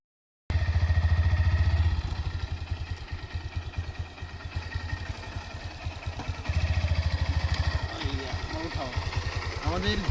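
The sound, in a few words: motorcycle engine running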